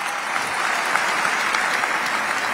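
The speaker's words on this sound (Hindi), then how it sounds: "जरा उसके लिए तालियां बजाइए" Loud, dense applause from a packed hall at a poetry recitation event, continuous and even throughout, close and full with no talk over it.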